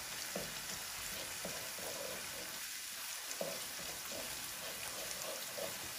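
Quiet, steady sizzle of hilsa fish frying in a pan, with soft crackles and occasional stirring scrapes under a constant hiss.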